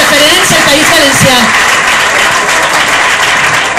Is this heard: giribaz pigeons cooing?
no